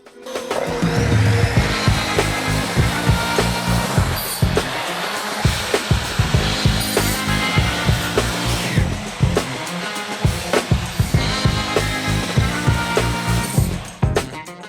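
A Vitals Professional Dz 3020XCI miter saw in chop mode cuts through a workpiece with a loud, steady motor whine and grinding blade noise that continues nearly unbroken, broken only by a brief dip midway.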